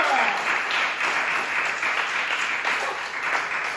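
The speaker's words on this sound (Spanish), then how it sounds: "Denle un aplauso a Jesús" Church congregation breaks into applause, a dense, even patter of many hands clapping at moderate volume for a few seconds with no one speaking over it.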